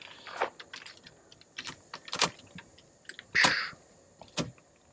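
Metal keys clink and jangle in scattered bursts as an X5 key, cut from a Lishi code on an Xhorse Condor Dolphin XP-005L machine, is handled nearby against a faint steady hum.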